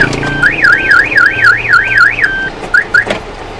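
A car's alarm siren wailing up and down in a rapid, loud warble close by, then cutting to a couple of short chirps, with no talking.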